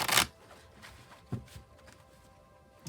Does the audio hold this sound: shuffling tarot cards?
yes